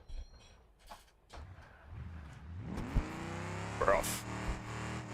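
A junk car engine in the BeamNG driving game idles roughly, then revs up into a rising whine that climbs and holds, with someone talking over the start.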